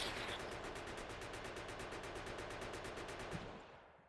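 Gun turret in the Factorio video game firing constantly, a fast, evenly spaced stream of shots for about three and a half seconds before it stops abruptly, fairly quiet and with no talk.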